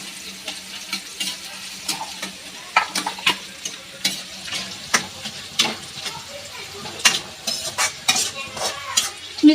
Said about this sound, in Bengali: এই যে কাজু কিশমিশ ভিজানো ছিল সেটাও দিয়ে দিলাম। আমি সব একসঙ্গেই ভেজে নেব